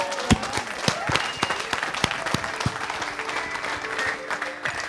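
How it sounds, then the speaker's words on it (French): A meeting hall audience at a national coordination gathering claps for itself, a scattered, fairly sparse round of individual hand claps, moderately quiet with a light room murmur underneath. "On peut s'applaudir."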